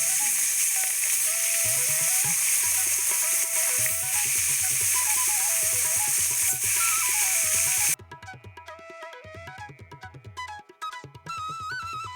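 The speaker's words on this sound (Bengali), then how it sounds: "সর্ষের তেলটা গরম হলে একে একে ইলিশ মাছগুলো ছেড়ে দেবো" Hilsa fish pieces sizzle in hot mustard oil in a wok as a steady, broad hiss under background music for about eight seconds, after which only the music continues.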